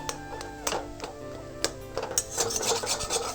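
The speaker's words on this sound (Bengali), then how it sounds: "আলুটাকে একটু নাড়াচাড়া করে ভেজে নেবো" Spiced potato filling with chopped coriander leaves stirred and fried in a pan, with scraping, tapping utensil strokes against the metal over a low sizzle, steady and close with no talking.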